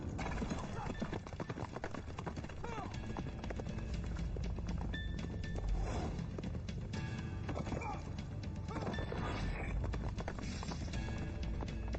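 Several horses walk at an unhurried pace, three heavy hoofbeats and one lighter, clip-clopping steadily and close by, with a brief whinny and a little low talk underneath.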